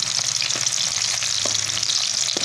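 Sweet potato fries sizzle steadily in hot oil over a high flame, with a few soft scrapes of a spoon stirring them through the pan; close and continuous, no voices.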